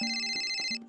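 A phone ringtone plays a bright, pulsing electronic melody, close and clear, for a brief moment before it cuts off.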